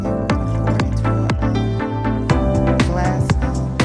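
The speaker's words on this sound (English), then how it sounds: "And then we're going to pour it into a" Rosemary water is poured into a glass: loud, nearby glugging and splashy drips in an uneven rhythm, with no talking over it.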